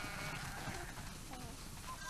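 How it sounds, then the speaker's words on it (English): Sheep bleating in The Last of Us Part II, a flock heard at a barn, a steady wash of overlapping calls at moderate distance with no talk over it. "That's a lot of sheep."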